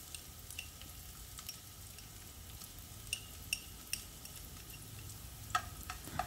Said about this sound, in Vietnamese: Phần còn lại mình cho hết vào luôn để mình phi.